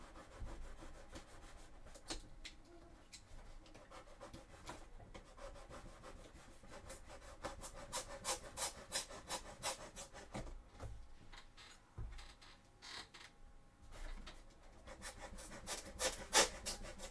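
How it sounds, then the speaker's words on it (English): A Dremel rotary tool sands foam cosplay armor for a Sisters of Battle costume, giving a continuous rough, rasping grind that keeps changing as the bit moves across the foam, with scratchy bursts, close and steady, and no talking. "it's a pain to sand with the Dremel"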